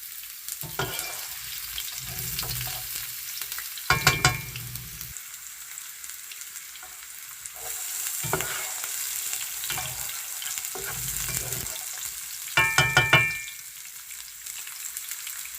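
Onions fry in oil in a cooking pot, a loud close sizzle that swells and fades, with a few brief bursts of clattering as they are stirred.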